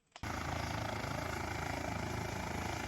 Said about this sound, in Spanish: ¿Un helicóptero que no va aquí, tú?